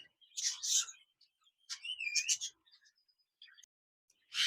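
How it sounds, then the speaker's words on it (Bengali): A pair of albino budgerigars chirps in short bursts of bright, high twittering with brief whistled notes, close by, separated by quiet gaps. "এখানে দেখতে পাচ্ছেন একজোড়া অ্যালবেনো বাজরিকার পাখি রয়েছে"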